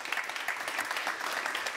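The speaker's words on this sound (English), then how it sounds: "please give us a round of applause" Audience applause for the panelists at the close of a POLITICO Live Spotlight panel discussion, a steady, moderately faint wash of clapping that holds evenly for the whole stretch with no voices over it.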